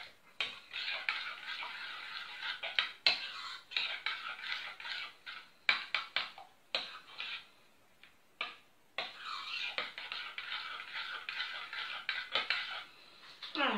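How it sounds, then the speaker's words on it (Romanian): A utensil stirs and scrapes sweet bread dough ingredients with milk in a bowl, producing repeated bursts of clinking and scraping in an uneven rhythm, fairly close and quiet, with short pauses between strokes and no talking. "Și amestecăm bine una în alta."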